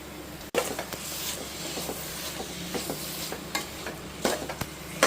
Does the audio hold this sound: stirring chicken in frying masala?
yes